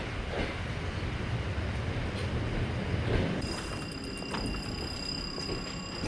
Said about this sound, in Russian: И нам надо сейчас влезть в электричку и поехать как-то.